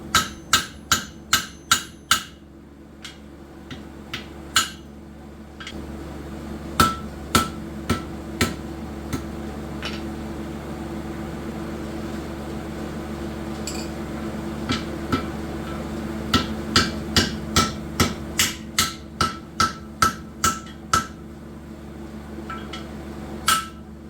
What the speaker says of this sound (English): when hammering around the cut-off hardy when it's in the anvil like that